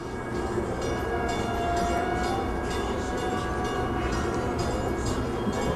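A train rumbles past steadily near the Fairport lift bridge with a continuous clattering roar, fairly close, with no voices over it.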